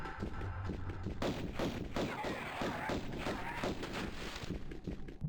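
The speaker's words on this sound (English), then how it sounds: "You can get a couple pot shots off" Several gunshots fired at a dinosaur in Tomb Raider, sounding as repeated punchy bangs and thuds over a busy, rumbling game background.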